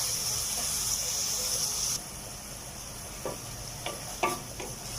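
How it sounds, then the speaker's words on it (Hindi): Chicken fries in a pan for a spicy spaghetti dish, a fairly quiet sizzle that drops in level partway through, punctuated by several crisp scraping stirs of a spoon. "चिकन को हमने उस वक्त तक भूनना है जब तक इसका जो कलर है ना वो सफ़ेद रंग ना हो जाए।"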